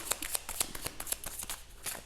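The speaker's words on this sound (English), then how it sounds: "Okay, I'm gonna give it one more shuffle." A deck of tarot cards being shuffled by hand, rapid crisp riffling flutters and soft taps repeating in quick bursts at close range, fairly quiet with no talking.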